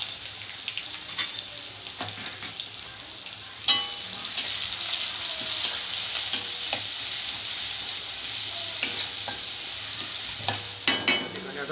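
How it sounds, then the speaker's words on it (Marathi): Chopped onions fry in two ladles of oil in a pan for a village-style mutton curry, a steady close sizzle throughout with occasional scrapes and stirring clinks, no voices. "त्याला चांगलं थोडंसं लाल होऊन द्यायचं आहे कांद्याला"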